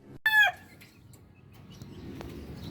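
A newly hatched chick gives one short, sharp peep near the start. A faint rustling background follows, with no voices.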